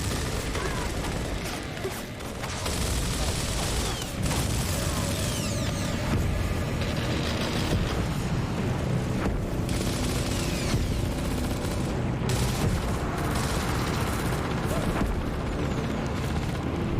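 Sustained firefight from Gears of War, with dense bursts of gunfire and mechanical clatter running steadily throughout under a busy, loud battle mix with a voice calling out.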